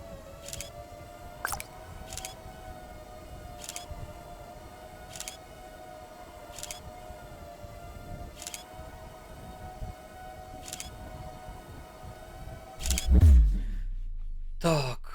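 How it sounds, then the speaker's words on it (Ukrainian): Motors of an FPV racing drone spin in the Liftoff video game, giving a steady, sustained whine with faint repeated ticks, ending in a brief louder thump. "можливо чути оберти моторчиків"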